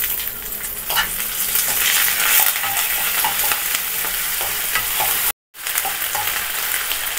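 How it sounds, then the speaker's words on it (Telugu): Homemade ginger garlic paste and curry leaves frying with onions in a pan give off a loud, steady sizzle and crackle, broken by a sudden brief silence near the end before the frying resumes. "అల్లం వెల్లుల్లి పేస్ట్ వేగిపోయిన తర్వాత, అంటే పచ్చివాసన పోయిన తర్వాత"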